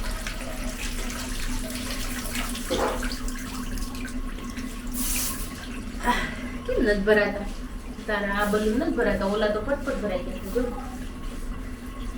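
Water running steadily from a tap into a container at home, a continuous splashing rush with people talking over it.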